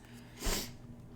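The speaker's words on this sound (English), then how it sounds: "Confirmation sneezes." One quick, breathy sneeze-like burst, faint and close, rising and fading within half a second against quiet hum.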